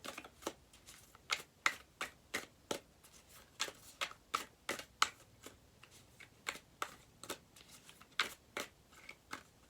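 Tarot cards are shuffled by hand in a quiet room, a run of crisp, evenly spaced riffling slaps and flicks repeating close up without talk.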